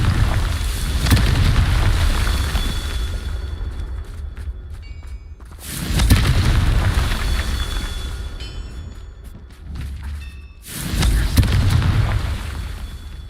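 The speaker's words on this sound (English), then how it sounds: "Confringo. Not so tricky after all, Merlin." Confringo fire spell blasts in the Hogwarts Legacy video game, producing three heavy booming explosions, each a loud rumbling burst that decays into crackling debris and fades before the next.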